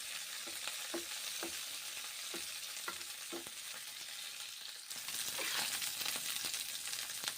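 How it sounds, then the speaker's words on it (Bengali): Okra pieces frying in hot oil for a mung dal dish, a steady close sizzle with scattered utensil clicks and stirring taps, the hiss growing louder and brighter toward the end. "এখন ঢ্যাঁড়সগুলো ভেজে নিচ্ছি, গরম তেলের সঙ্গে ভেজে নিচ্ছি।"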